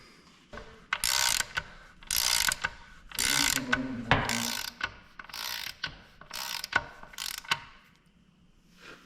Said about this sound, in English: The socket is in the impact gun.